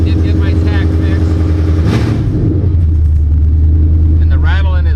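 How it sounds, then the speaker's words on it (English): A Coyote V8 in a New Edge SN95 Mustang idles loudly and steadily while its loose exhaust flanges rattle, with a brief louder burst partway through and someone talking briefly near the end. "the rattling is from the exhaust flanges right now because they're not tight"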